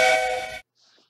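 A loud, breathy whistle sound effect blows steadily for about half a second and then cuts off abruptly, leaving only faint trailing noise.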